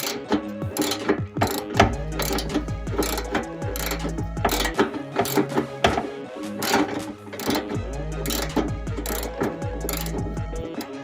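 A ratchet wrench spins out a bolt tucked up inside the front fender of a Ford Fiesta, giving a steady run of rapid, close metallic clicks in repeated bursts with only brief pauses, and no talking.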